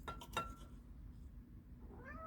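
A house cat meows close by in a kitchen at breakfast time. Two short cries come at the start and a rising call comes near the end, all over a low steady background hum.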